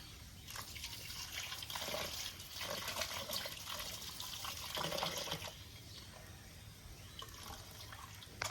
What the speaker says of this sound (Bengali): এবার চিংড়ি মাছগুলো ভালো করে ধুয়ে নেব